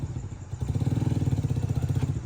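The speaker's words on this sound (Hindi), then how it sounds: "ये उसकी बाइक पे जा रहा है" A motorcycle engine nearby revs up and pulls away, a loud rapid pulsing putter that rises after a brief pause and holds steady before starting to fade, with no talking.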